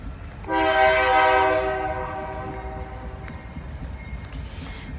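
A freight train led by ex-BNSF locomotives approaches near State Route 68, sounding a loud chorded horn blast that fades into the rumble and clatter of passing cars.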